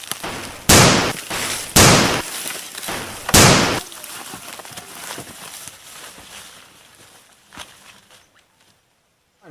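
Gunshots in a Sundanese short film about fighting for independence: three loud, sharp blasts fire in close succession near the start, followed by fainter scattered knocks and thuds fading toward near silence.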